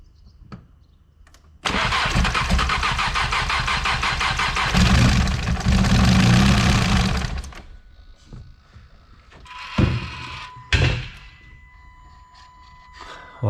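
A 750 bhp Cupra engine fires up for its first start with a loud, close roar that holds at a rough idle and swells in a rev before cutting off, followed by a few scattered clunks and short bursts of workshop noise.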